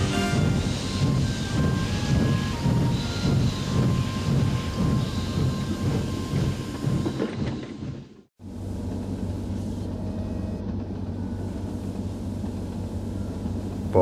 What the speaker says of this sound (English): they saw Steven the Q1 steaming angrily away with a mixed goods train